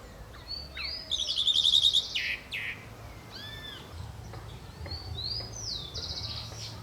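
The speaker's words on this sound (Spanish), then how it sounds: "Las calandrias grandes también tienen su nido en casa. Están alimentando a sus pichones." Great calandria mockingbirds feeding their chicks at a nest in a home park give bright, repeated chirps and whistled calls. The calls come in several clear bursts over a faint background hum.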